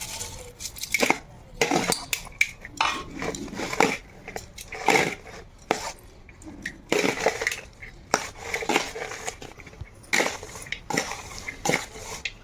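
Spoon or spatula stirring mint rice together with roasted chana dal in a cooking pot, giving irregular scraping, clinking and soft crunching strokes at close range with no talk.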